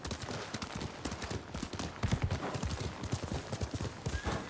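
A horse's hooves clip-clop at a steady trot in the video game Ghost of Tsushima, close and loud, with a rapid even rhythm that runs throughout and no talk over it.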